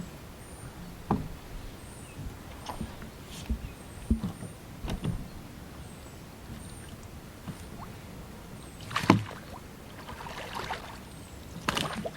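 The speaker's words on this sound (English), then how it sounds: "One man unmoors his boat and rows away" Quiet splashes and knocks of oars dipping into a reservoir as a man rows a boat at a slow, irregular pace, with faint creaks and birdsong in the background.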